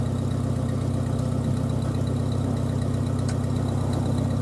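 A car engine idles in a cold garage just after starting following a long period unused, a steady low rumbling drone that holds evenly and close, with no talk over it.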